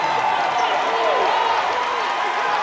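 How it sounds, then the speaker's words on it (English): Crowd noise at a Baylor vs. Rice NCAA women's volleyball second-round match, a steady continuous roar of cheering and clapping that swells slightly, with no break. "And the crowd here rising, making more noise"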